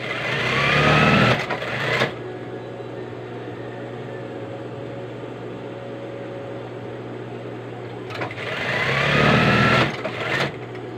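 A sewing machine stitches a blouse in two fast whirring bursts of a couple of seconds each, loud and close, with a quieter steady hum between them.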